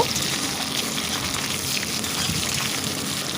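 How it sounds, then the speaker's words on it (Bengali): A handful of onion sautéing in a pan for a quick home biryani gives a steady, dense frying hiss that holds at an even level throughout with no talking. "এক মুঠো পেঁয়াজ পেঁয়াজটা দিয়ে ভালো করে কষিয়ে নেব"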